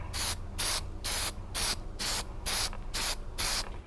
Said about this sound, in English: I'm gonna spray all my little parts